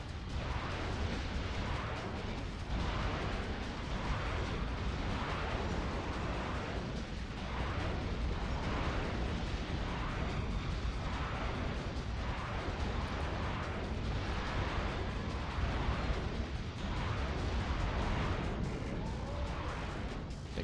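Constant heavy rocket explosions in the video game Metal Arms boom one after another in a dense, roaring barrage, loud and unbroken throughout with no voices.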